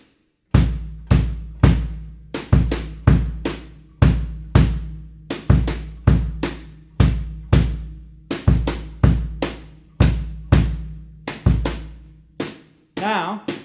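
Timbale rhythm pattern played on drums, likely with brushes: a brisk, steady run of close, punchy hits with syncopated accents lasting over twelve seconds, ending with a brief different sound.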